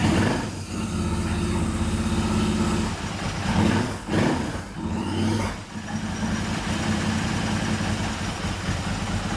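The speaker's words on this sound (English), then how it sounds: "We may have to work on the idling a little bit" A Revelry 700cc kit engine idles steadily at street-ride settings, a continuous low, slightly uneven rumble with brief dips in level, loud and close with no talking.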